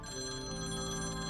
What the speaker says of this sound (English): That phone call must be urgent at this time of day.